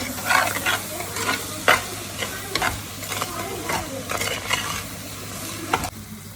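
Ginger, garlic and green chili paste sauté in a pan for a crab roast, giving a steady sizzle broken by repeated scraping strokes of a spoon, close and moderately loud.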